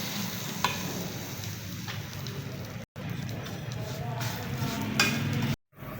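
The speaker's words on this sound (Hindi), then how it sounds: "ये बिल्कुल हल्की आंच पे भूननी है आपने।" Vermicelli roasting in a little desi ghee over a low flame, a gentle sizzle with scraping and tapping of a spoon stirring in the pan, with a couple of brief cuts in the sound.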